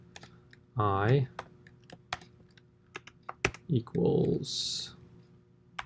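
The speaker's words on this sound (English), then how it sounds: "I'm going to type this and run it and then explain it." Keystrokes on a computer keyboard while R code is typed, scattered clicks of varying loudness spread through the clip, interrupted by brief bursts of talking.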